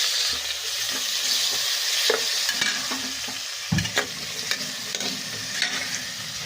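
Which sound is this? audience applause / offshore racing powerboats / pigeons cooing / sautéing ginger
sautéing ginger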